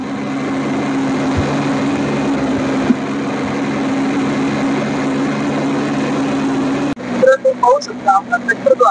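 A Swaraj Target 630 compact tractor runs at top speed on a live speed test. Its engine gives a loud, steady drone for about seven seconds before it abruptly gives way to quieter, broken sounds.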